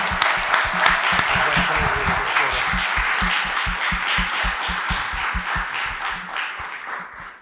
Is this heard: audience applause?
yes